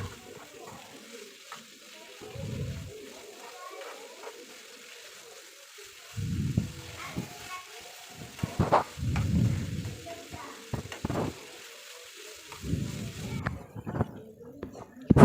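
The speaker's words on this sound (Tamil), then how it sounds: "ஒரு கைப்பிடி அளவு கருவேப்பிலை சேர்த்து வதக்கிக்கலாம்" A handful of curry leaves sautés in a pan over low flame for chutney, a faint, soft sizzle running underneath, with scattered stirring clinks and scrapes and a few louder bursts close by.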